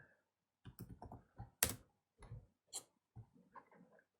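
Faint typing on a computer keyboard, with short clusters of quiet key clicks separated by pauses and no voice over them.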